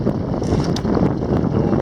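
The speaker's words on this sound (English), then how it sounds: "Wind picked up pretty strong." Strong northeast wind buffets a small fishing boat out on a bayou, a steady loud roar of gusting wind noise across the microphone with no speech.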